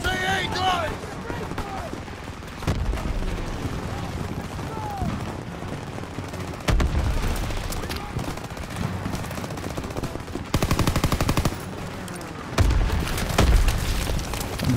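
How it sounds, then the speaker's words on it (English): Bombs exploding and gunfire in the final Call of Duty WW2 campaign mission, The Rhine: heavy booms land every few seconds amid continuous rattling machine-gun fire, loud and dense, with a voice talking underneath. "Bombs everywhere."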